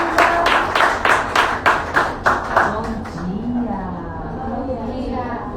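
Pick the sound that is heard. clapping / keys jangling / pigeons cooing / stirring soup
clapping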